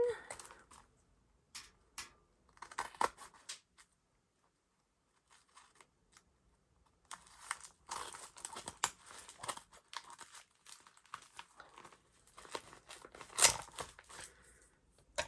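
Scissors slicing open mailed packages, with close crinkling and tearing of packaging in bursts, a quiet gap midway, then denser cutting and rustling.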